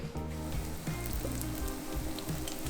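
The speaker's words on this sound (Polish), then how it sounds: "Kolejne krążki cebulowe się już smażą." Onion rings coated in batter and flakes fry in hot oil in a deep fryer, giving a soft, continuous sizzle with crackling pops, heard alone and fairly quiet.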